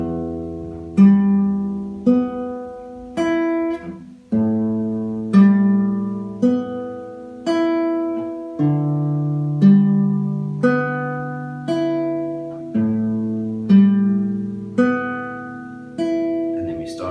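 Beginner guitar exercise, plucked single notes and chords ringing out one per beat in an even, repeating pattern, close and clear with no talk.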